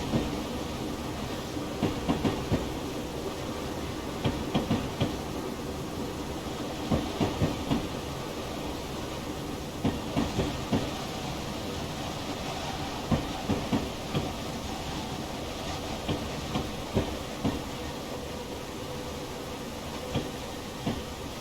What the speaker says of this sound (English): Let this train roll right on out